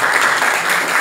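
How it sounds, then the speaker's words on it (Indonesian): An audience of young participants at a character-building program breaks into a dense, steady wash of applause, loud and continuous throughout. "Tepuk tangan."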